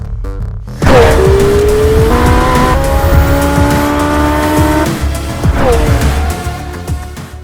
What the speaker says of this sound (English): This epic car is a V8 4-litre hybrid.